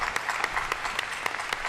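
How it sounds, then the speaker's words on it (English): An audience applauds at the 2023 inauguration of Maine Governor Janet Mills, a steady clatter of clapping filling an auditorium. "She waves to musicians in the audience to applause"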